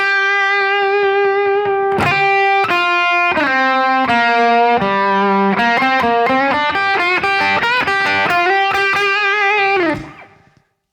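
Distorted electric guitar playing a 12-bar blues lick, a phrase of bent and picked notes with a short pause early on, ending in a sustained note that cuts off at the end.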